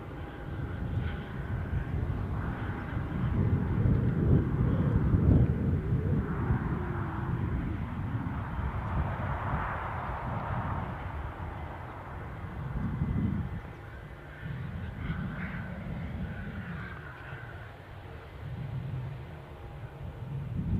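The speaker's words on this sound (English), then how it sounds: "we might just catch a bit of British Airways scooting to its regular gate, gate 3" A British Airways plane taxis to gate 3 at Newcastle airport, its engines a steady low rumble that swells around the middle and again briefly later, with no talk over it.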